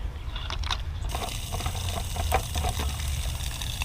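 A cheap pump sprayer leaks at the top, giving a steady hissing, watery spray with a faint sputter, close and continuous throughout.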